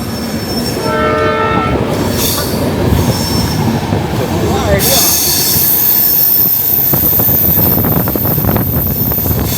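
A passenger train in India running along the tracks, heard loud and close through open doors, with constant wheel rumble and clatter, squealing wheels and a horn sounding briefly early on.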